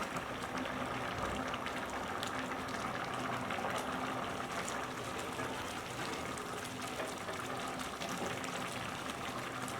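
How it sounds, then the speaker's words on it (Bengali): Water for pulao rice boils hard in a pot on the stove, a continuous dense bubbling and gurgling that stays close and even at moderate volume without pauses. "চুলার পানিটা দেখুন প্রায় শুকিয়ে এসেছে এবং এইরকম বলক উঠছে।"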